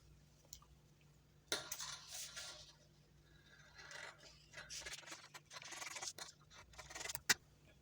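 Scissors cutting out a fabric shirt collar make soft, close snipping and rustling in irregular bursts, with a sharper click near the end, over quiet room tone and no speech.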